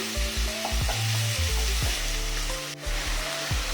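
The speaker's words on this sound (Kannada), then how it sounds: "ಅದರಲ್ಲಿ ಈ ಶುಂಠಿ ಮತ್ತು ಉಪ್ಪನ್ನು ಸ್ವಲ್ಪ ಕೆಂಪಗೆ ಮಾಡ್ಕೊಳ್ತೀನಿ" Ginger, salt, green chillies and onion fry in a pan as a masala base for fish pollichathu. A close, continuous sizzle is broken by sharp scrapes and clinks of stirring.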